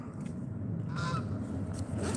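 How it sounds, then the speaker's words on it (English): Wild geese honk in a short, distant burst of two or three calls over steady outdoor background noise near a creek while fishing in spring. "Is that geese? Hey, wild geese."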